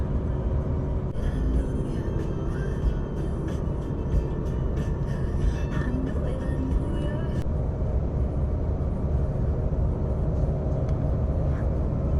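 A car cruises along a highway on the drive from Terrace toward Prince Rupert, British Columbia, giving a loud, steady low road-and-engine rumble throughout with tyre hiss rising and falling, and no talk.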